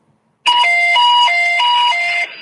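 A fire department dispatch alert for an automatic fire alarm call to engine 8: a loud, steady two-tone electronic warble alternating high and low pitches for about two seconds, alone.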